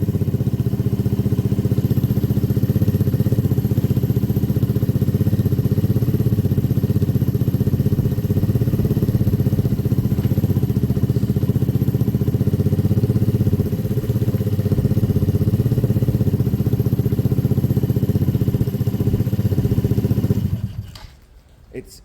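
An HMC 125cc motorcycle engine running steadily at idle with a low, even mechanical drone and light clatter, close by, before cutting off near the end.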